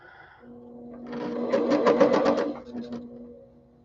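Felting machine punching through fabric for a book cover, a short burst of rapid rhythmic needle chatter that swells up and fades after a couple of seconds, fairly close.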